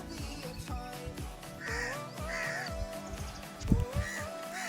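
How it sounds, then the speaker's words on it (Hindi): Crows cawing near a person collecting wood, with several harsh calls in an uneven series that rise over a busy outdoor background of scraping and thumping sounds. "मेरे पीछे आ जाते हैं चोंच लगाने को, कहीं चोंच ना लगा दें कौवे।"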